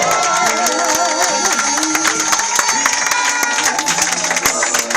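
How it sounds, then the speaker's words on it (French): A church congregation at a prophet's consecration cheers and applauds loudly, with steady dense clapping and shouting voices throughout, and music and a voice over the crowd. "On acclame très fort le Seigneur."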